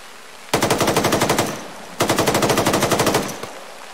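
Machine gun fire from the video game ArmA 3 in two sharp bursts of rapid, evenly spaced shots, each about a second long, loud and close.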